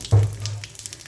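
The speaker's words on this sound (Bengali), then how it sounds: "তাই পাঁচফোড়নে বাগার দিলাম" Panch phoron spices hit hot oil for a sweet pickle tempering, bursting into a loud close sizzle that quickly settles into a softer crackling fry with scattered pops.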